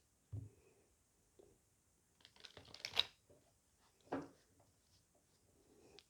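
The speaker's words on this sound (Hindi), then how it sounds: "अच्छे से शफल कर लेती हूँ गाइस" Tarot cards being shuffled by hand, a few soft papery riffles and slides at close range with quiet pauses between them.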